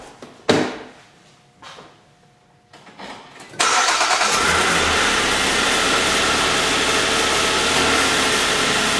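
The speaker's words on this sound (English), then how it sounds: "Start the car." A car engine cranks with a few short starter bursts, then catches and settles into a loud, steady idle that runs to the end.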